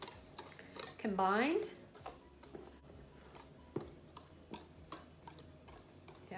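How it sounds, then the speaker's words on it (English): Wire whisk clinking against a bowl while stirring a dry cake mixture of cocoa, baking soda and baking powder, a rapid run of light metallic ticks and taps, with a person speaking over it. "I'm just using a whisk to do this with"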